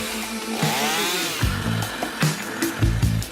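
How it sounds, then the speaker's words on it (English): A chainsaw runs close by in a backyard, its engine droning and revving repeatedly in uneven bursts as it cuts, loud and without speech. "swinging a chainsaw."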